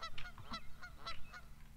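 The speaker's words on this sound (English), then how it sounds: "Why does everyone sound like a goose?" Goose-like honks in the ice hockey video game Slapshot: Rebound, a quick series of nasal squawks over low background noise.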